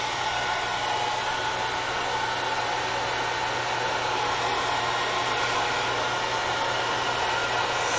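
A hair dryer blows steadily and loudly to dry wet paint on an artwork, a constant close whoosh with an even motor hum and no break.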